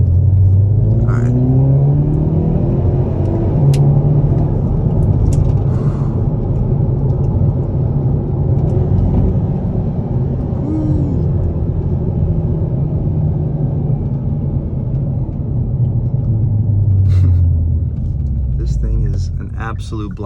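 2022 Hyundai Veloster N engine droning loudly and steadily while driving, with rising and falling rev tones throughout and a voice speaking now and then over the rumble.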